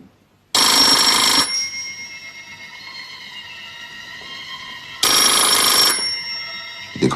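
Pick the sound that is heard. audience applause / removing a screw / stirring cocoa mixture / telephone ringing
telephone ringing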